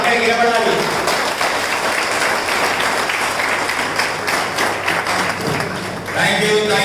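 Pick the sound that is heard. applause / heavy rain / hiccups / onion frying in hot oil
applause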